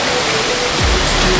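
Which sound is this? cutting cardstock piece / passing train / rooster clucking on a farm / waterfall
waterfall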